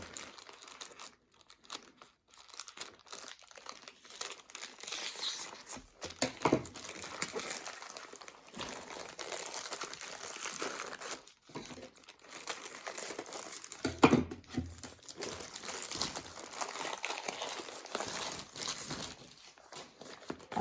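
A plastic parcel of diamond mosaic and cross-stitch kits is opened, its packaging crinkling, rustling and tearing in bursts near and fairly loud, with brief pauses.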